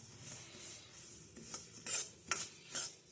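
Gurellu (niger) seeds roasting in a pan, soft crackling and scraping stirs in a few brief bursts, close and fairly quiet.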